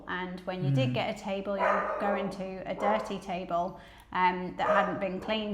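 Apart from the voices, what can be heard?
dog barking at the postman outside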